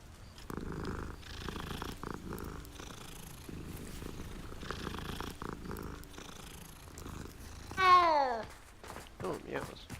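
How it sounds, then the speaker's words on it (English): A cat in the Hogwarts Legacy video game purrs steadily while being petted, a close, rhythmic rumbling throb. A short rising meow breaks in near the end, and a faint voice is heard at times. "Kitty! Pet the cat."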